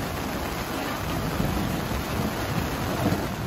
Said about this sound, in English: it's rain with a whole bunch of wind and thunder.